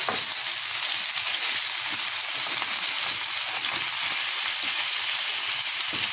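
Minced meat frying loudly in a pan for Egyptian béchamel pasta, a dense continuous sizzle close up with faint scraping as the meat is broken apart, no talking.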